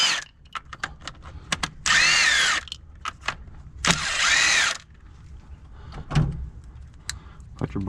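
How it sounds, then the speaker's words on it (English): An impact wrench on a Nissan S13 removing ignition coil bolts gives two loud, short whirring bursts, with scattered clicks and clunks from the tool and engine bay in between. "Get your trusty impact in there and"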